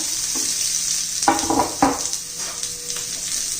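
Chopped onion goes into a pan of frying grated coconut and sesame seeds for a village-style drumstick curry, giving a steady close hiss with a few louder scraping stirs in the middle.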